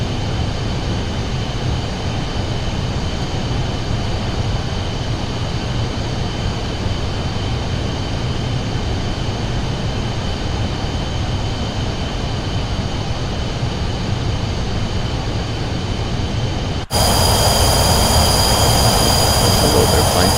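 Pilatus PC-24 business jet engine in Microsoft Flight Simulator 2024, a loud, constant broadband whine and roar with steady high tones, shifting abruptly to a brighter, harsher engine tone near the end.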